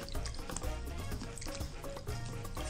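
Water sloshing and trickling over rice being rinsed in a bowl under a tap, a continuous close splashing and pouring with small drips throughout.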